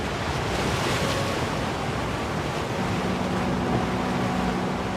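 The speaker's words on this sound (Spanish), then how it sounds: "Tiene el mar, tiene el viento, tiene las olas, tiene la roca" Sea waves and strong wind roar continuously along the rocky coast at the Peine del Viento steel sculptures, a dense, loud wash of surf with wind buffeting the microphone.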